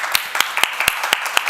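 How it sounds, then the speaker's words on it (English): A small audience gives a brief round of applause for the panelists at the close of a panel discussion, with sparse, distinct claps rather than a dense roar. "Let's give the panelists a round of applause."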